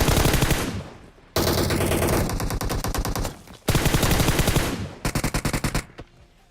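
PUBG Mobile automatic gunfire blasts loudly in three long sustained bursts separated by brief gaps, ending in a few choppy single shots, with no talking over it.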